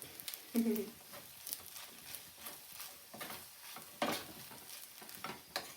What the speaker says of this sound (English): Stir them all in there, get them in there. Mix them all up.